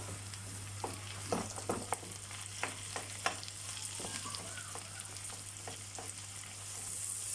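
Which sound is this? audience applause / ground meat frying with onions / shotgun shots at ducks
ground meat frying with onions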